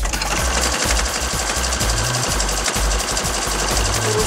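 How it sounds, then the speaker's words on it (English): Sewing machine stitching down the folded edge of a drop cloth tote bag, running loud and close with a rapid, steady mechanical chatter and rhythmic thumping from the needle throughout. "I'm going to sew down the folded edge."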